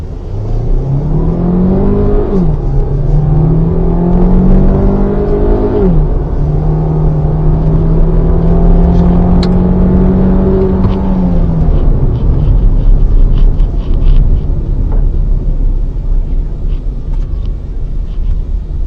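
A 2021 MG HS crossover accelerates hard from 0 to 100 in Super Sport mode, its engine climbing steadily through the gears with clear shift drops, loud and close from inside the cabin over a constant road rumble.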